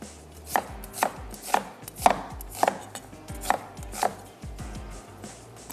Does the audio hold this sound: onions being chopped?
yes